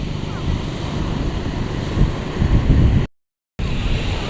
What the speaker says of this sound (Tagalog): Ayaw po malalaki yung alon.